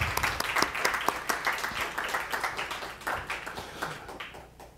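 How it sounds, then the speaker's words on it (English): A crowd at a book launch presentation applauds steadily for several seconds, dense clapping that gradually thins and fades toward the end. "So I want to give applause for these writers."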